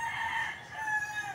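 A rooster of a provincial breed called hulo crows in a backyard among bamboo, one sustained, strained call lasting over a second, close and fairly loud with no talking.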